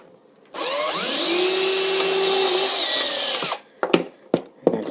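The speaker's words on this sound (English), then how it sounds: "those are the 2 holes that I've now drilled out for the wires." A power drill whirs steadily for about three seconds while boring a wire hole in an Axial SCX10 RC car body, its pitch shifting under load, then several sharp plastic clicks and knocks close by.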